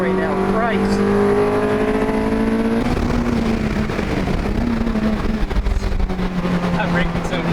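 Supercharged Cosworth-engined FRS on a race track at Harris Hill Raceway, engine note rising then dropping under braking with bumpy rumble, steady and close, with a driver talking over it.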